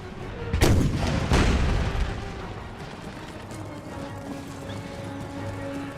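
Artillery firing canister shots in Empire Total War gives two heavy booming blasts close together early on, each followed by a rolling tail that fades into a low battlefield din with faint hoofbeats.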